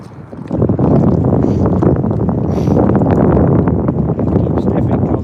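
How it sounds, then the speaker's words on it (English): Heavy wind buffets the microphone in loud, rumbling gusts on a cold day striper fishing, nearly drowning out everything else, with faint water sounds underneath. "Oh, that wind is brutal. Do y'all hear that on there?"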